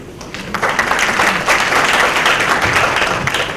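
An audience at a conference session breaks into applause after a speech, a dense, lively clapping that swells quickly and stays loud and continuous with no talking.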